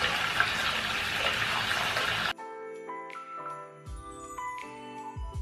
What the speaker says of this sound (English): So now I'm just gonna run a bath.